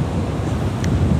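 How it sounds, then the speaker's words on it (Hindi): Rough sea waves pounding the Karachi coast during a cyclone, a loud, dense roar of surf mixed with heavy wind buffeting the microphone, brief and continuous. "ये समंदर है"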